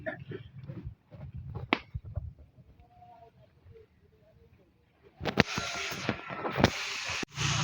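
Water poured onto a cooking fire gives a loud, broad hissing burst of steam after a quieter stretch of low crackle and handling noise, with a second sharp hiss near the end.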